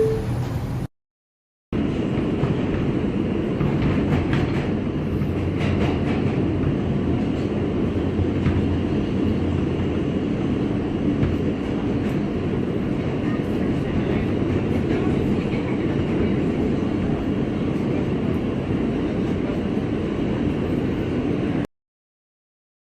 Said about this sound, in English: This is a Brooklyn-bound 5 express train.